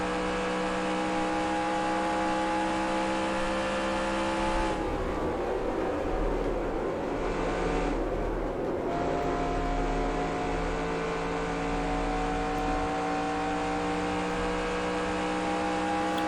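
A NASCAR stock car engine from the NASCAR Racing 2003 Season game at Nashville Superspeedway drones steadily, dips briefly as the throttle partly lifts into a turn, then climbs back to a sustained high whine.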